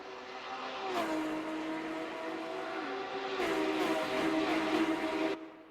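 Race cars in a racing video game stream across the finish line at the Assen circuit, a steady loud engine roar with rising and falling pitch as several cars pass close by in succession.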